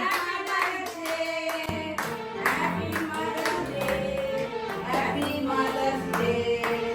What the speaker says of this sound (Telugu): మీరు క్లాప్స్ కొట్టురి హ్యాపీ మదర్స్ డే